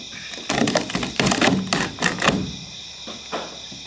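Fiberglass and old adhesive being peeled off a worn bus emergency exit, giving a run of close, loud crackling tears and splintery rips that come in bursts over about two seconds, then trail off into fainter scraping.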